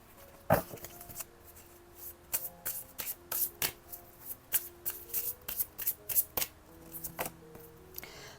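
Oracle cards being shuffled by hand, a long run of crisp riffling and slapping bursts in an uneven rhythm, close and clear with no voice over them.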